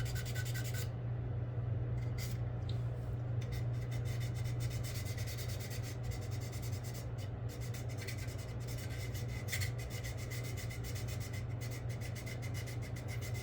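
Steady scratchy sanding of putty on a Revell 1/48 P-40B Tiger Shark scale model, continuous close rubbing strokes over a constant low hum, with no talking.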